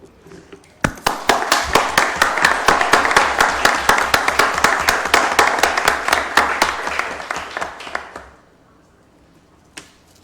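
Hands clap in a sharp, rhythmic burst at a council tribute session honoring a woman. The near, distinct claps build quickly, hold steady, then fade out, leaving a lone clap near the end.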